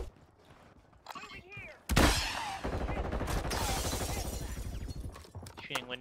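Gunfire in the battle royale shooter Warzone, with an assault rifle firing a sustained burst of rapid shots after a few scattered earlier sounds, loud and close, mixed with game noise and players talking over it.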